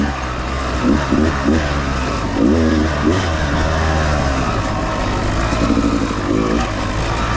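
A Yamaha YZ250 two-stroke dirt bike descending a long rocky downhill, its engine burbling and blipping in short uneven bursts as the throttle is worked, with knocks and rattles of the bike over the rocks.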